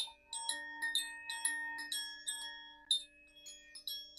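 Small hand bell rung repeatedly in a quiet room, about nine bright ringing strikes at an uneven rhythm, each tone decaying and overlapping the next, close and clear with no talking.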